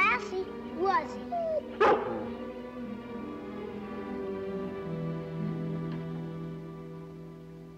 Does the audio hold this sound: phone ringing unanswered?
no